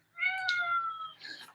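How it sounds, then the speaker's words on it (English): A hungry cat gives a single drawn-out meow, close and clear in a quiet room, trailing into a shorter second cry. "Cat's hungry too."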